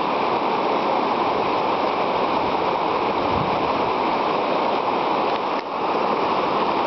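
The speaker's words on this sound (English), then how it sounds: "August 2007, folks, on the Big Pine Rapids" Whitewater of the Big Pine Rapids on the French River in Ontario roars steadily and loudly throughout, a dense continuous rushing of churning water with no voices.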